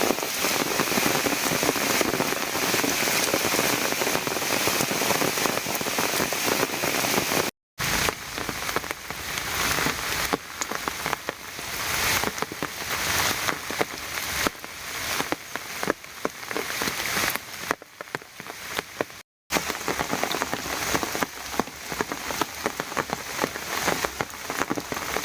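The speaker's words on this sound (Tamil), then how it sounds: "மேற்கு தொடர்ச்சி மலையோர பகுதிகளில் பெய்து வரும் தொடர் கனமழை" Heavy monsoon rain pours steadily on a rubber plantation in Kanyakumari, a dense unbroken hiss of drops striking leaves and ground, loud and constant with two brief cut-outs.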